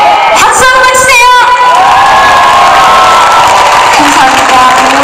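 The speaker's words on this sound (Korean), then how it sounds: "박수 한번 해주세요" A concert crowd in Seattle cheers, shouts and claps loudly for a trot singer on stage, with high excited voices and whoops rising together in a thick, continuous roar.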